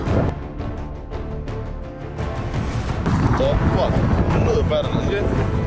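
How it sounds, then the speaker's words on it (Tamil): Strong wind gusts over Jaffna during worsening weather and flooding, a steady, roaring, buffeting rush close to the microphone that grows louder in the second half, with faint voices mixed in. "காத்து மடிக்க தொடங்கிட்டு பலமா"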